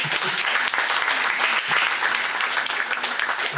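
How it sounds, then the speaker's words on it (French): Applause from the audience after a speech at an award ceremony: a dense, continuous wash of many hands clapping, loud and sustained throughout. "On peut l'applaudir."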